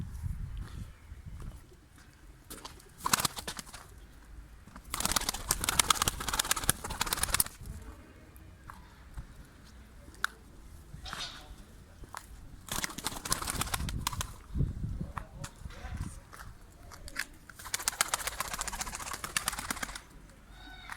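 Çıplak breed pigeon cooing in repeated low bursts, close by, with rustling and handling noises between calls and no talk.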